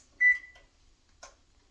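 Electronic beeps from an oven control panel as it is set to 350°F, one sustained tone followed by a shorter chirp a second later, close and clear in a quiet kitchen.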